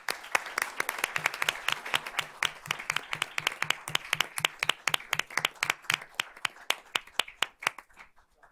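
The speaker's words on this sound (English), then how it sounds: "So let's give these students a round of applause." At a school board of trustees meeting, a small audience claps for students in a clear, rhythmic burst of individual hand claps, fairly close and distinct, gradually thinning out toward the end.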